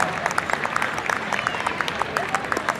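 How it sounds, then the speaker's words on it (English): Audience clapping at an outdoor horse show with Suffolk and Shire horses in carts, a dense steady round of applause from a crowd, with an announcer's voice running underneath. "Give Randy a round of applause"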